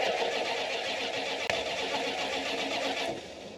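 A classic car's engine cranks over continuously from a remote starter without catching, a steady loud churning that runs unbroken before easing slightly near the end.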